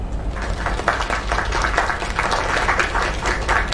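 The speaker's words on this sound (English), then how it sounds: "Another round of applause." Applause from an in-game audience in the video game Lake, a moderately dense burst of clapping that continues steadily throughout over a low rumble.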